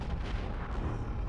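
Gunfire from the video game Conker's Bad Fur Day, a dense, continuous booming barrage with heavy low rumble that stays steady and loud for the whole moment, with no talking.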